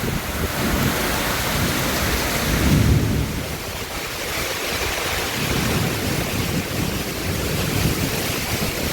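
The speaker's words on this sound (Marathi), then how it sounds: "जबरदस्त वारा आणि पाऊस आहे." Dense rain roars continuously with gusting wind, a deep rumbling swell midway, no voices.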